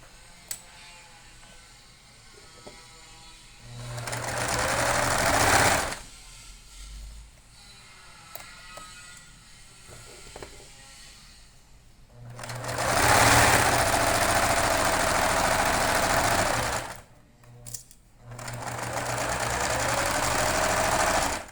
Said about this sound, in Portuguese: nós vamos passar uma outra costura sobre essa